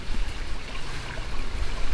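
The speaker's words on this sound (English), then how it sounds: "Cool pool with a little trickling waterfall going." A small waterfall trickling into a pool at Bork Falls, Ferne Clyffe State Park, southern Illinois, makes a steady, fairly close wash of splashing water with no voices.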